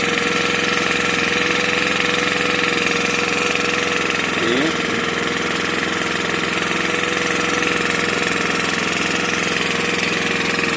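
A gas-fuelled engine with a carburetor runs at a steady, even pace, a loud continuous drone with a constant hum that holds unchanged throughout.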